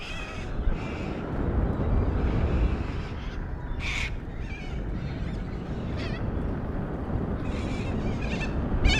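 Crows caw outdoors in a few short bursts that stand out against steady wind and rumble while someone rides an Inmotion V11 electric unicycle.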